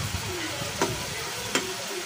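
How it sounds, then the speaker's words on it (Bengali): Prawns sizzle as they fry in a pan over a low flame, a steady frying hiss broken by two sharp scraping clicks of a spatula stirring them around. "সুন্দর করে লাড়াচাড়া করে নেব, যাতে প্রতিটা মাছই যাতে সমানভাবে ভাজা হয়"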